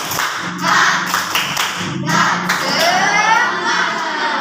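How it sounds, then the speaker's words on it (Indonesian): A classroom of pupils claps together in a quick rhythmic pattern led by their Islamic studies teacher, with sharp bursts of clapping and children's voices filling the room close by. "coba tepuk semangat"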